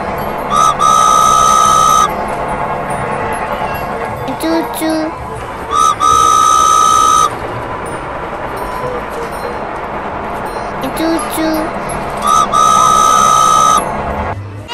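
A toy train whistle at an indoor play center toots in three long, loud blasts spaced several seconds apart, with softer chirps and background chatter in between.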